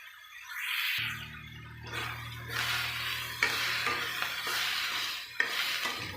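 Masala for fish curry sautés in a pan with a soft frying sizzle, broken by scraping stirs and light clinks of a utensil against the pan.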